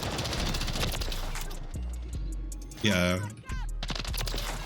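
Rapid automatic fire from a BAL 27 rifle in Modern Warfare 3, dense bursts of sharp reports with heavy low boom, pausing briefly as someone speaks over it, then resuming loud and close.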